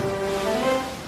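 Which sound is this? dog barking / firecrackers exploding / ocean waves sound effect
ocean waves sound effect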